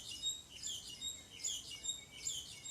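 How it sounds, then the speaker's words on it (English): Birds chirping in the morning, a faint, steady scatter of high, quick tweets and calls repeating at a distance, with no one talking. "don't know if you guys can hear the birds and stuff going, chirping and making all their little sounds around you"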